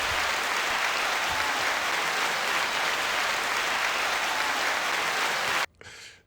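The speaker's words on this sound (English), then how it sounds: "Mara, 9-second applause." Sustained applause from a crowd, a dense even roar of clapping held for several seconds before cutting off abruptly near the end.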